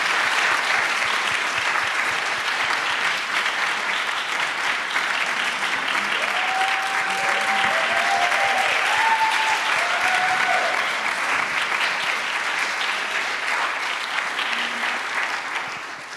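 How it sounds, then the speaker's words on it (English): Audience at a church youth ministry panel gives a steady, sustained round of applause, dense and even throughout, with faint voices underneath before the clapping fades at the end. "can you join me in a round of applause thanking them for sharing the ways that they have?"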